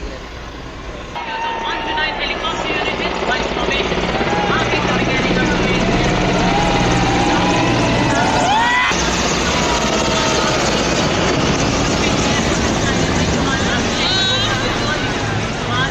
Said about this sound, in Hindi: हेलीकॉप्टर का हेलीकॉप्टर आता है। दिख रहा है।